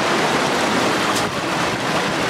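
Sea waves wash against a secluded coastal spot as a broad, steady roar of surf mixed with wind buffeting the microphone, with no talking.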